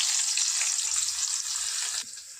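Onions and two dried red chillies fry in hot oil in a pan, giving a steady, loud, close sizzle that drops off sharply near the end, with faint stirring scrapes underneath and no talking.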